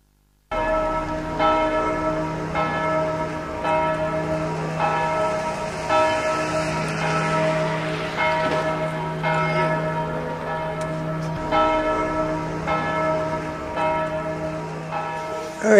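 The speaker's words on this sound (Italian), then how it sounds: "Le campane, si impara un po' tardi a capire quanto sono importanti, no? E sono la voce di un paese" Church bells ring out over an Italian town, a sustained peal of overlapping tolls with rich, layered harmonics continuing steadily throughout at moderate loudness.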